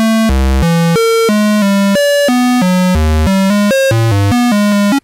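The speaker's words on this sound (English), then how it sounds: "we get the standard 1960s computer noise" Korg ARP Odyssey synthesizer sample-and-hold tone jumping between random pitches in quick stepped bursts, a busy bleepy sequence with no pauses, loud and continuous until it stops.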